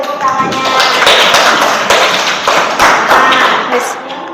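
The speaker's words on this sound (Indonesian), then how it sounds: "Oke, tepuk tangannya." Classroom clapping at a junior high school presentation, a loud burst of many hands that carries on for several seconds before tapering off, with voices mixed in.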